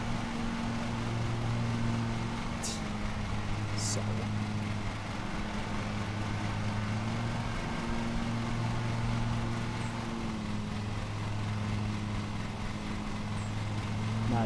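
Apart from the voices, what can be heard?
lawn mower engine running in a lawnmower simulator video game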